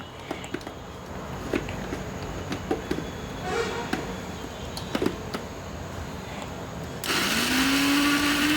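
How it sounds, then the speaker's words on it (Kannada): An electric mixer grinder purees two tomatoes, starting with a sudden loud, steady whirring roar near the end, after a stretch of kitchen clatter and talking. "ಎರಡು ಟೊಮೊಟೊ ಇದು ಮಿಕ್ಸಿಗೆ ಹಾಕಿಟ್ಕೊಳ್ತಾ ಇದ್ದೀನಿ"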